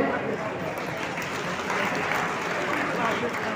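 Audience at a Dr. B.R. Ambedkar 132nd birth anniversary (Jayanti) event applauding, a dense, steady wash of clapping and crowd noise held evenly throughout.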